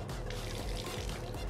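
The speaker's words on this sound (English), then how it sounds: "pour inside of the shaker" Liquid pours from a bottle into a cocktail shaker, a steady close splashing trickle that runs unbroken for over a second.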